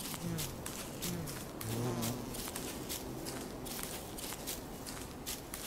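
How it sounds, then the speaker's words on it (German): A bee buzzes steadily in the video game Don't Starve, with soft footsteps ticking in a regular rhythm and a few low game tones underneath. "Da ist schon wieder eine Biene."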